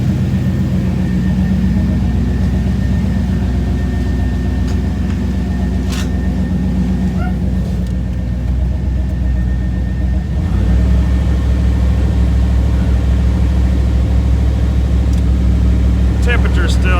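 A Pontiac Firebird engine runs at a steady idle, and partway through the RPM is raised to a higher, fuller drone, loud and close with someone talking over it.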